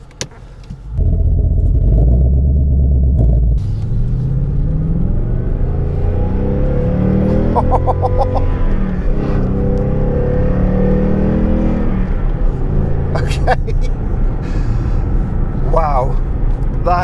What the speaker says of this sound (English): Wow, that engine is just glorious. A 5-litre V8.